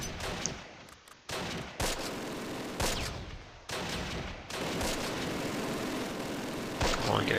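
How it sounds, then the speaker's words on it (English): Enemy machine gun fire rattles in the Close Combat: Last Stand Arnhem video game, in several separate bursts that cut in and out over a constant hiss of battlefield noise, moderately distant. "they've still got an MG back here somewhere"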